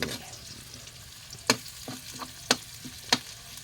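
Onions sauté in cooking oil over a wood-fired clay stove for chicken adobo, a continuous sizzle broken by a few sharp scrapes and knocks of a utensil stirring the pan, close, with no voices.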